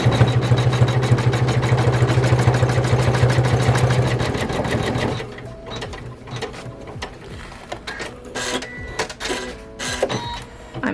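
Sewing machine stitching fabric greenery appliqué down onto a pineapple appliqué, a fast steady mechanical whirr of needle strokes for about five seconds, then stopping into sparse clicks and handling noises.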